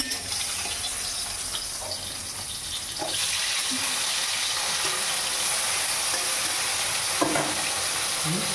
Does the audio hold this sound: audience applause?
no